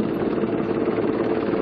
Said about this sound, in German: gerade der Super Puma von der Schweizer Luftwaffe landet gerade auf dem Heliport.